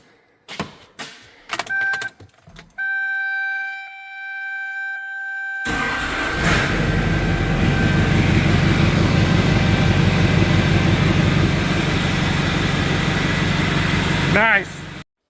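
A 2001–2016 Duramax diesel pickup engine cranks after its fuel filters are changed, catching at once and settling into a loud, steady idle. Starter whirring and a few clicks come first, then the engine clatters on without a break and stops abruptly.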